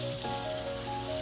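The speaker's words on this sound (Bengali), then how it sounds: "আমি না এবার এখানে চিকেনগুলো দিয়ে দিচ্ছি" Chicken pieces are dropped into almost-cooked frying masala and sizzle steadily. A close, even hiss continues with no pause for a moment.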